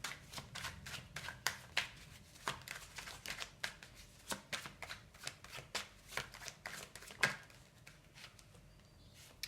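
Tarot cards being shuffled by hand, a steady run of crisp riffling slaps and soft flutters, close and fairly quiet, with no speech over it.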